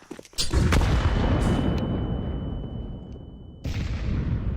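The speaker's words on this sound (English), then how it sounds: "Flashbang out." A flashbang grenade detonates in Counter-Strike 2: one sharp, loud burst that decays into a long roaring wash, with a steady high ringing tone lingering until a second noisy surge near the end.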